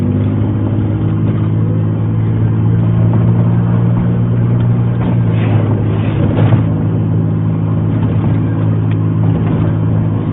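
A truck's engine drones loudly and steadily from inside the cab as it drives, with a brief rise in revs partway through and no talking.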